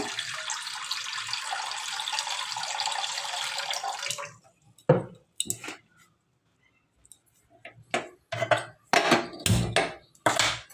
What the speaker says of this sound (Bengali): কড়াইতে জল দিয়ে দেব